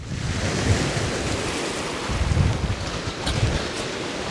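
Strong waves break on a stormy shore, a continuous heavy surf with low rumbling surges, mixed with buffeting wind noise against the microphone.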